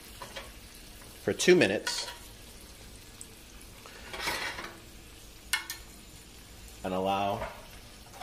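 Potatoes tipped into a hot steak pan turned up to high heat, sizzling and frying with stirring scrapes in short bursts beneath a person talking.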